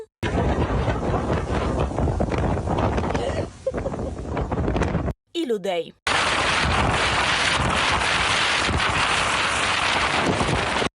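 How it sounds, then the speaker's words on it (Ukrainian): Strong storm gusts roar and buffet across a microphone throughout, loud and continuous, broken by a brief cut, with a voice speaking over the noise during a nationwide windstorm in Ukraine. "Шаленим вітром здувало і тварин."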